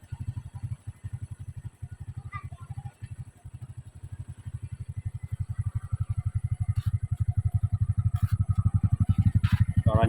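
A 2008 Honda Supra X125R motorcycle engine idles after starting, with a steady, rapid low putter that grows slightly stronger and runs evenly throughout.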